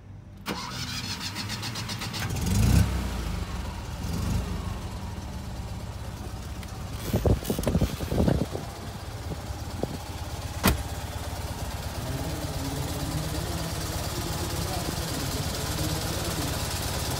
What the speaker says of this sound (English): The engine is running pretty smoothly. Accelerates nicely.